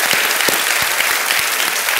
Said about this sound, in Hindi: आपके लिए हम अभिनंदन और तालियां बजाते हैं।